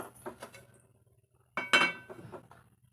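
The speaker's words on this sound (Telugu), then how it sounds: "స్టవ్ అయితే వెలిగించుకొని దానిపై ప్యాన్ పెట్టుకొని" A pan is set down on a lit stove while making a sweet bread omelette, giving a few light metallic clinks followed by a louder clatter and rattle, close and without talk.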